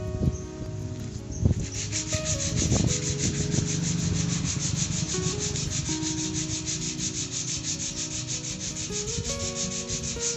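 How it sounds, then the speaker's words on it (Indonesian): Hand sanding of a painted metal fence: a steady abrasive rubbing that runs continuously throughout at close range, with a few sharper scrapes early on and faint background hum and insect-like chirping. "Jadi harus diamplas lagi."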